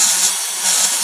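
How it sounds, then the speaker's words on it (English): A small cone-shaped butt burr drill trims a palladium ring prong, giving a continuous high, hissy whine with slight rises and dips, close and steady throughout. "you just saw me doing with the butt, which is a very small cone shape drill"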